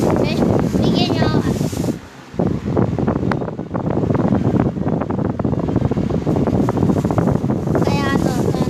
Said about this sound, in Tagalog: malakas yung hangin lakas ng hangin natin guys